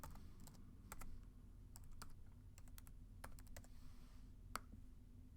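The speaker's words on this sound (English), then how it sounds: "In the Show String block, go ahead and type your name." Steady typing on a computer keyboard while entering a name into a Micro:bit Show String block, a run of quick key clicks in irregular bursts, close up and moderately quiet over a low background hum.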